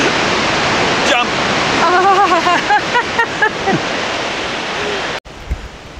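A waterfall in a national park in the Rockies gives off a loud, constant roar of rushing water, heard up close. Voices talk and call out over it before the sound cuts off abruptly near the end.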